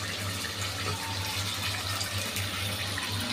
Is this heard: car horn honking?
no